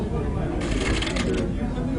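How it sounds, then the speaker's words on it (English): A deck of playing cards being crunch-shuffled, the cards bent and wedged into each other, giving a brief crisp riffling burst of about a second, close up, over a low room background. "I call it the crunch shuffle because it bends the hell out of the card."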